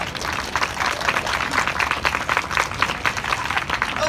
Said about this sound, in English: why not show us with a round of applause?